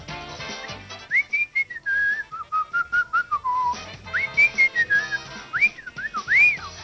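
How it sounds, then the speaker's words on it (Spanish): Someone whistles a gentle, wavering tune alone, the notes rising and falling at an easy, relaxed pace. "¿Un silbido tranquilo o quieres uno fuerte?"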